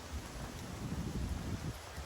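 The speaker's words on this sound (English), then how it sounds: "It's freaking windy, you guys." Strong wind buffets the microphone during an outdoor half-marathon training run, a continuous low rumbling roar with gusty swells and no clear voices.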